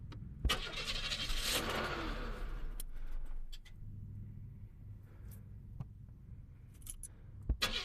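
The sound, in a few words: car engine cold start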